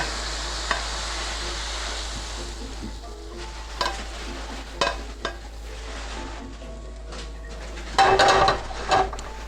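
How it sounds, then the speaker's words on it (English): A reduced tuna casserole mixture is scraped from a hot pan into a bowl, with faint sizzling under a steady hum and several sharp utensil scrapes and clinks, loudest near the end. "So I'm just going to transfer that into a bowl."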